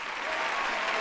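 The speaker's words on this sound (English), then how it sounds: "round of applause for you" Brief burst of clapping from a small crowd for a guest on a podcast, dense and even for about a second.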